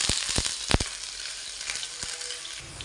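Curry leaves and shallots sizzling in hot oil for a Kerala fish curry, a steady bright crackle with a few sharp pops and spatters near the start, close and continuous with no talking.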